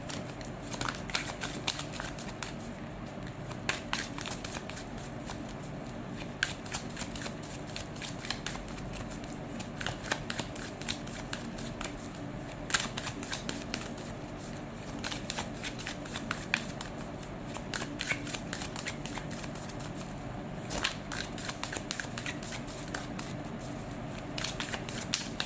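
A deck of tarot or oracle cards is shuffled again and again, crisp riffling bursts recurring over a quiet background for a long stretch, close and fairly soft.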